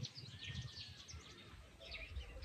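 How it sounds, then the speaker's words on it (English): Birds chirp in the morning among flowers near Lake Bunyonyi, with faint, scattered calls over a quiet outdoor background. "Hear birds chirping."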